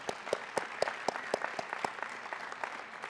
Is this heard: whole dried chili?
no